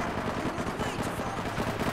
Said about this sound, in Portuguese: Tá estourando tiro, eu tô cercado aqui